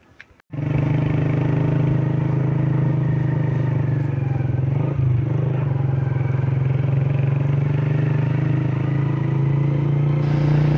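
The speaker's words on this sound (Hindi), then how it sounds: "अभी मैं रोड पे पहुंच आया हूँ बाइक पे।" Motorcycle ridden on a mountain road in Neelum Valley, Kashmir, its engine starting up and then droning steadily and loudly close by with a brief dip midway, no talk over it.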